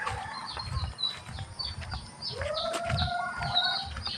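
Farm chickens cluck and chirp in a yard near feeding time, with a rising fowl call cutting in midway over a busy outdoor background of scattered bird noises.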